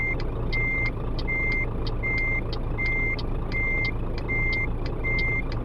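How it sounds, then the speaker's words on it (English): A truck in Euro Truck Simulator 2 beeps steadily while reversing, with evenly spaced high warning tones repeating about seven times over a constant low engine hum. "we're going to back in"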